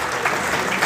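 An audience at a magic convention claps together, giving a dense, even wash of applause that runs straight through the short moment with no pause.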